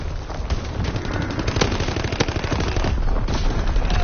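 Rapid automatic gunfire in the World War II shooter Call of Duty WW2, loud continuous bursts of shots rattling close by with no talk over them.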